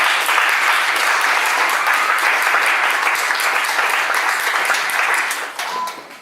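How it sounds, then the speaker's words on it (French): A church congregation bursts into loud, sustained applause, a dense wash of clapping filling the room at steady volume before tapering off near the end. "Applaudissez le Seigneur."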